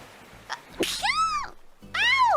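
A person sneezes with a drawn-out high wavering buildup followed by a sharp burst, then another rising cry-like sound, loud and close with no other talk.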